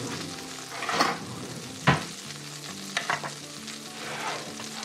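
Butter melting and frying in a pan while cooking an Indian dish, a soft continuous sizzle with a few louder stirring scrapes and clatters, a faint steady hum in the background.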